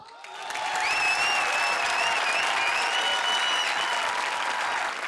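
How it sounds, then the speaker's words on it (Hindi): Loud, sustained studio audience applause greeting the teams on a televised comedy show, dense clapping rising quickly and holding evenly for several seconds, with a few whistles riding on top. "तो जोरदार तालियों के साथ स्वागत कीजिए हमारी धुआंधार टीम्स का, द फैंटास्टिक फोर।"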